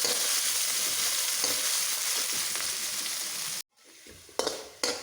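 Curry leaves, ginger and garlic fry in hot oil for a Kerala-style tender mango pickle. A loud, steady sizzle cuts off abruptly, then returns as a softer crackle with a couple of sharp stirring bursts.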